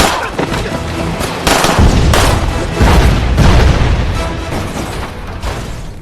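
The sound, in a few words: car bomb explosion in a film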